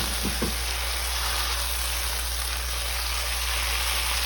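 Zucchini, tomatoes and mushrooms fry in a pan with a steady, even sizzle, with a couple of soft knocks at the start as green pepper goes in; no one speaks.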